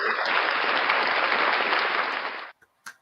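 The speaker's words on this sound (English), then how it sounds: "round of applause once again for our guest, Professor Crack" Audience applause for a returning guest on a live show, a dense steady clapping wash that holds strongly for about two and a half seconds, then cuts off abruptly with a couple of faint stray sounds after.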